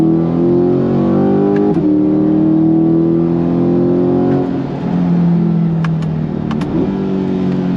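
A C8 Corvette Stingray Z51 with an AWE aftermarket exhaust revs hard and close, its harmonic note climbing through the gears with brief drops at each shift, a raspy, throaty exhaust throughout.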